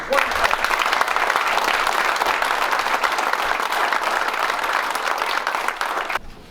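A banquet audience gives a sustained round of applause, a dense, even roar of many hands clapping with crowd murmur beneath, holding for about six seconds before stopping abruptly.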